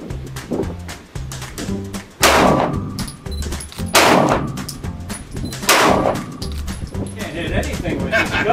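Handgun shots fired at a training center, four loud cracks spaced roughly one to two seconds apart, each with a short echo, with people talking between and over them.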